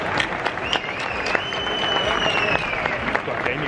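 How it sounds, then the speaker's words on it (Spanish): An audience at Comic-Con Madrid 2018 breaks into loud, steady applause for a guest voice actress, dense clapping filling the space while a voice carries over it. "¡Un fuerte aplauso!"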